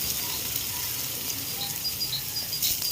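Crushed ginger sizzles in hot oil with five-spice while cooking bottle gourd with lentils, a steady close crackling hiss with small pops throughout and no talk.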